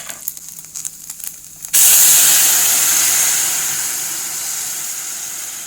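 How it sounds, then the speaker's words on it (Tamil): Dissolved jaggery syrup poured into a hot pan erupts into a loud, sudden steamy hiss that stays strong and slowly fades, following a few faint clinks. "இப்போ இது கூட நம்ம வந்து கரைச்சி வச்சுருக்க வெள்ளத்தை ஊற்றிக்கலாம்"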